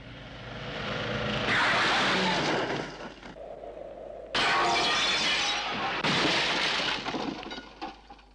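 A human cannonball is fired head first at about 30 miles per hour into a sheet of glass, producing loud, close shattering crashes in two or three bursts, with glass fragments breaking and scattering.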